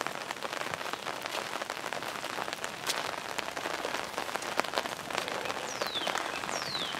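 Rain falling outdoors among gladiolus, a steady soft patter of drops on surfaces with scattered sharper taps, faint and even throughout with no talk.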